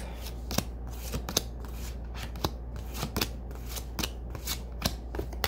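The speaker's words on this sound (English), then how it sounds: "we shuffle the planet cards twice" Tarot planet cards being shuffled by hand, a steady run of crisp riffling and slapping card sounds, close and moderately loud with no talk.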